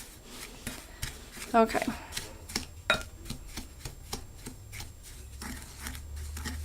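A spoon working oil into a dry bath bomb mixture, gritty scraping and rubbing strokes up close with a couple of sharper rasps, and a brief spoken word.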